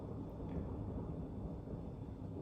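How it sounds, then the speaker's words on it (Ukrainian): A thunderstorm rumbles in a steady, low, rolling roar with a continuous hiss of rain or wind. No distinct crack stands out over the constant dense noise. "це гроза"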